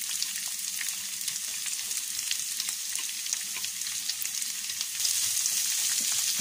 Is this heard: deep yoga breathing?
no